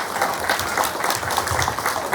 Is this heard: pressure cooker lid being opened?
no